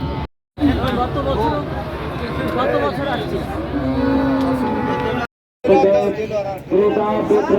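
Cattle moo loudly and repeatedly at a large, busy livestock market, with crowd chatter and people talking all around.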